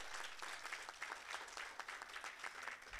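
An auditorium crowd at a university 50th anniversary event applauds participants warmly, dense overlapping claps sustained at an even level for the whole stretch.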